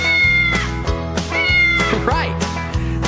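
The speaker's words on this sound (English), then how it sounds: "Right, the cats go as they chase the little mice." A domestic cat meows repeatedly in close, loud, wavering calls, several overlapping cries with a brief caterwauling quality, heard alone without talking.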